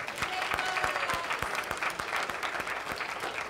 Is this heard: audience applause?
yes